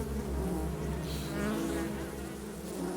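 Bees buzzing in a TV show, a dense, steady swarm drone filling the whole stretch at constant loudness, close and continuous with no talk.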